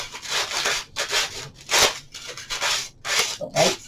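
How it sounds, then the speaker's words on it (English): Rhythmic scratchy rubbing of fine-grit sandpaper lightly sanding Dollar Tree foam, several short back-and-forth strokes in a steady rhythm, close and fairly loud, with no talking. "So light sanding."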